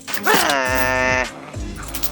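A cartoon dog yips and lets out a long rising whimpering whine, close and clear, with a voice heard around it.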